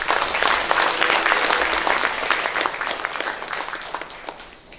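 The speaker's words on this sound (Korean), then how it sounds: "우리 박수 한번 부탁드립시다." An audience applauds steadily at an indoor awards ceremony, dense clapping that stays loud throughout and tapers off slightly at the end.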